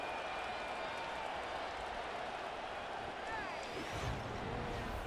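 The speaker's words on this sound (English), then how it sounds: "Plenty of shouts from this crowd as they watch the replay." A stadium crowd roars in the Madden 25 football game simulation, Eagles against Patriots, a dense continuous wash of shouting and cheering with a swell near the end.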